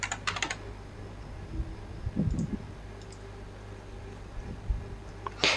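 Keys clatter on a computer keyboard while someone builds and edits an agency website, a quick burst of typing at the start followed by scattered, fairly quiet clicks over a low steady hum.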